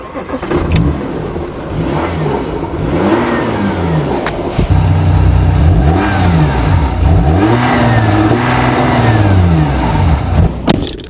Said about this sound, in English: Now let's hear what this car sounds like when it's started up.